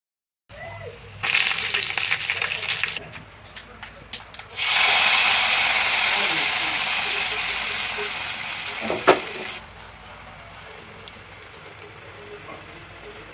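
Tempering (tadka) spices hit hot oil for dal pongal, setting off a loud, steady sizzle that starts abruptly and slowly fades, with brief stirring and pan clatter around it.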